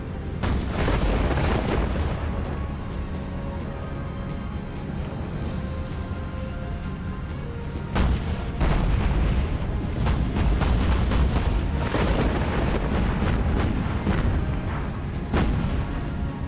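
Warship guns fire repeated salvos in the naval video game Battlestations Pacific, heavy booms rolling over one another in a dense, loud, continuous barrage.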